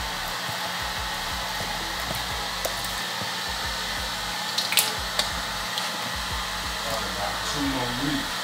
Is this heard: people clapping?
no